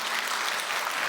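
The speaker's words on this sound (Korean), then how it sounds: "우리 영광의 박수 한번 하겠습니다" Church congregation applauding at a Friday evening Korean worship service, a brief, dense burst of many people clapping together, full and even, with no gaps.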